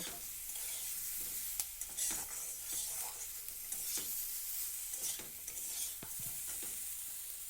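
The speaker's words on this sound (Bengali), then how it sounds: "এবার আমি সজনে ফুলগুলোকে দিয়ে দিলাম।" Drumstick flowers go into vegetables frying in oil, a soft continuous sizzle broken by frequent scraping and clinking strokes of a spoon stirring the pan.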